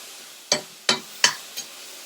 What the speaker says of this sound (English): I'm just giving them a little saute